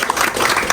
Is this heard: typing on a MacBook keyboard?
no